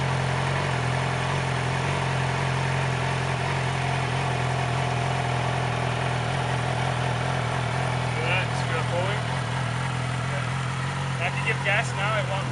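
A 2007 Yamaha R6 600cc motorcycle with stock exhaust idles steadily and close by, a constant low engine drone running under a voice, with faint clicks toward the end.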